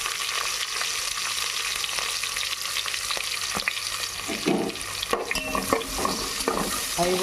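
Ingredients for Andhra-style gongura pulao fry and sizzle in a pan, a steady close hiss broken by scraping stirs and a few sharp clinks of the spatula near the end.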